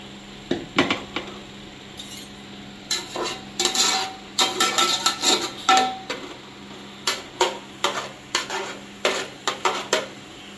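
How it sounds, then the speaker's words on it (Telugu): Oil sizzles in a pot while a utensil stirs and scrapes in repeated bursts, with clinks of metal, during preparation of Andhra-style veg dum biryani; no talking. "గిన్నెలో నూనె వేయాలండి."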